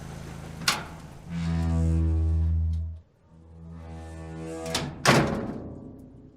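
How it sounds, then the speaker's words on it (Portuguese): A door swings open with a sharp click, a long low creak, then a solid thunk, followed by a second latch click and knock, near and fairly quiet with no talking. "Ela abriu a porta e eles entraram."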